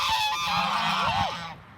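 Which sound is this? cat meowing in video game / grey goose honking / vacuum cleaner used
grey goose honking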